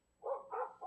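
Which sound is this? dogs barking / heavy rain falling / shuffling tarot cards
dogs barking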